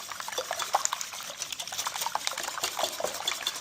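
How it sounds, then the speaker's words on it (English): An egg mixture for a zucchini pie frittata is whisked briskly in a bowl, giving a continuous wet, rapid clatter close up with no talking. "My preferred whisking technique."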